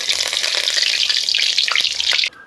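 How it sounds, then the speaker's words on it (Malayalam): Dense, crackling sizzle of curry leaves dropped into hot oil, loud and steady, cutting off abruptly near the end. "എണ്ണ ചൂടായി വരുമ്പോഴേക്കും കുറച്ച് കറിവേപ്പില ഇട്ട് കൊടുക്കാം."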